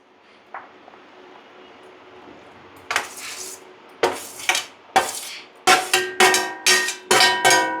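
Prawn pickle being mixed in oil in a pot, a spoon knocking against the metal rim in a run of sharp, ringing clanks that come faster and louder toward the end after a quiet opening.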